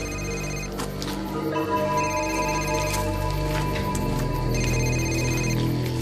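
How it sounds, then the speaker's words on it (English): A car phone rings repeatedly in trilling electronic bursts over a steady, loud background hum. "Is that agent's car phone?"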